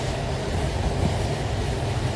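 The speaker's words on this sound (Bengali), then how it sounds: "ট্রেন ছেড়ে দিয়েছে কমলাপুর রেলওয়ে স্টেশন থেকে সকাল 8টা বাজে" The Sundarban Express rolls along from Dhaka toward Kushtia in heavy rain, a constant close rumble of wheels and carriage with no talking.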